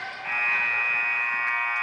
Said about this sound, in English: There's a buzzer ending the first quarter.